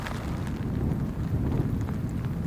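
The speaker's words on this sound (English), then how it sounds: "We are waiting out a storm." A storm rages outside in awful weather, a dense low rumbling roar with gusty wind and rain-like patter, continuous and fairly loud with no voices.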